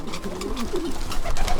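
Long-distance racing pigeons coo in low, throaty bursts, a few soft rolling calls close by over a faint background hum.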